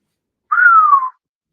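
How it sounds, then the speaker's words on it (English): A person whistles a single clear sustained note lasting about half a second, gently sliding downward in pitch, close and alone in silence. "What you whistling about?"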